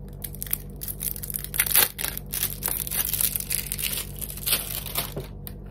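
BTS photo cards being unwrapped by hand, with loud crinkling and crushing of plastic packaging and some tearing bursts, close and continuous, no talk.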